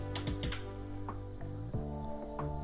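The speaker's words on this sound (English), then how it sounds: "Okay, type your text" Keys clack on a computer keyboard as text is typed, a quick irregular run of close, soft taps with no voice over them.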